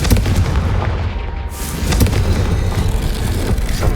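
A Confringo fire spell from the video game Hogwarts Legacy goes off with loud, booming explosive blasts. Heavy rumbling impacts and crackling bursts fill the whole stretch.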